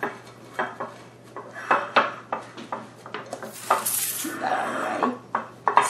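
A s'mores pizza roll-up is set seam side down into a loaf pan in a home kitchen. Close, irregular metallic clinks, taps and scrapes of the pan come with soft handling rustles and no speech.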